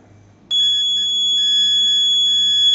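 An Arduino-built smart doorbell lets out a loud, steady electronic tone that starts abruptly and holds without a break, pure and shrill, with nothing else around it.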